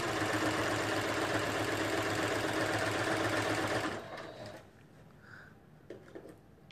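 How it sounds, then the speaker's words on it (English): A sewing machine stitches two sides of fabric together, a loud, steady mechanical whirring hum for about four seconds before it stops, followed by faint handling clicks. "It's sewing them together."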